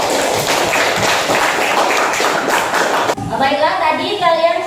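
A class of students in a science lesson claps together, a dense burst of applause at close range that stops sharply, followed by a speaking voice.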